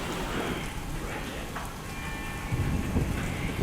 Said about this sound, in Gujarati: અહીં પણ ધોધમાર વરસાદ ખાબક્યો